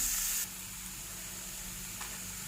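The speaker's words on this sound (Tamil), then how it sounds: "வெங்காயம் நல்லா ஃப்ரை ஆன பிறகு தக்காளி போடலாம்" Onions fry in a pan for tomato rice, giving a faint, even hiss of sizzling that drops slightly after the first moment, with one small clink.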